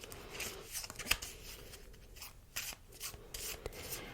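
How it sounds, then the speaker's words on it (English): Soft rubbing and riffling of Doomlings game cards being shuffled by hand, quiet close-up papery swishes in irregular bursts with a sharper snap midway, no talk. "So we will shuffle these cards up."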